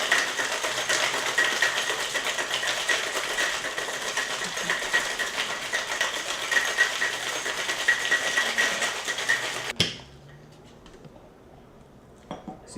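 An Amaretto Sour shaken hard with one hand in a Koriko shaker, a fast, loud rattling of ice that runs steadily and then stops abruptly, followed by a few quiet clinks.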